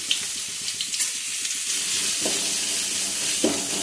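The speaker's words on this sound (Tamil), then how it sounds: "எண்ணெய் காஞ்சதும் இப்போ நாம் வெங்காயம் ஒரு 3 சேர்த்துக்கலாம்" Onions frying in hot oil for a squid fry, a continuous bright sizzle with soft stirring scrapes, close and steady, with a couple of louder hissing bursts as the pieces are turned.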